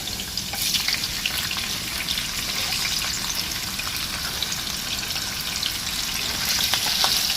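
Onion, garlic and ginger fry in a hot pan, giving a steady, close crackling sizzle with light stirring that runs the whole time with no talk.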